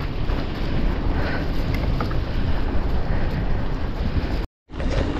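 Strong wind buffets a mountain bike rider on an exposed hilltop, a loud continuous broadband roar and microphone rumble throughout, cutting out briefly near the end before resuming.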